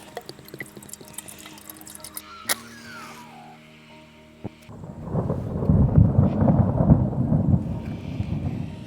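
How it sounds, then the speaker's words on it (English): Deep rolling thunder from heavy storm clouds during a hike camp, a sharp crack early on, then a loud sustained low rumble building through the second half with no talk. "There are some hefty storm clouds and thunder."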